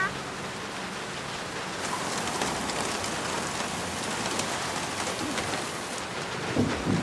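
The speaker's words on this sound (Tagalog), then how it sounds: "Oh, umuulan" Steady, dense rain falls without pause, a broad close hiss that swells slightly in heavier patches, with no voices.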